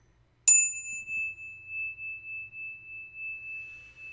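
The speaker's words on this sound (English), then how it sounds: "I'm going to ring my bell" A small bell, a little crystal one, struck once, leaving a clear ringing tone that decays slowly with a gentle beating shimmer in an otherwise quiet room.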